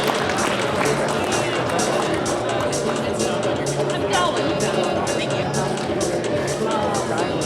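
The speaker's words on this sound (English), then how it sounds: "Big round of applause for both teams here." Crowd applause for both teams at an FTC robotics tournament, a steady, dense wash of clapping and cheering that holds at an even level throughout, with crowd babble mixed in.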